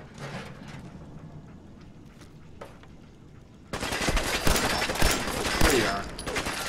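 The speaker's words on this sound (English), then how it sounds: "Best shooting through the floor." Sudden loud bursts of gunfire shooting through a floor in Fallout 4 erupt halfway through after a quieter stretch, rapid repeated shots continuing to the end.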